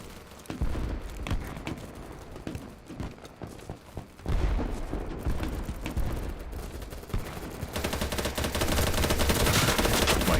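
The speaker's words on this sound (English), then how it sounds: "There's 3 guys shooting out of our building, and I got shot underneath them." Video game shootout gunfire, bursts of automatic shots and cracks at varying distance, growing into dense continuous firing toward the end, with little talk.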